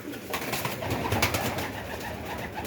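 Pigeons coo steadily close by, layered over a busy chorus of other bird calls with no one speaking.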